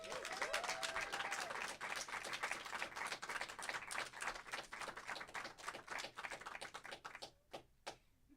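Audience clapping for a poet at a live spoken-word event, dense steady applause from many hands that thins out and trails off into a few last scattered claps.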